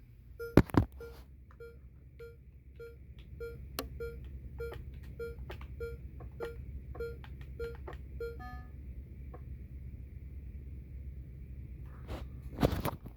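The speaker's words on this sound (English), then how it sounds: "Just give me a second to punch in the code." A security system keypad in Minecraft is punched in: a steady series of short, evenly spaced electronic beeps for several seconds, followed by a faint hum and a louder burst near the end.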